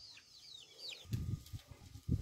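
Chickens settling on their night perch in a backyard coop give a few low clucks and murmurs, close by, with some faint high bird chirps early on.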